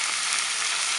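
Sunflower sprouts and fresh shiitake mushrooms sizzle steadily in a hot pan right after a splash of water goes in, a loud, even hiss of frying with no talk over it.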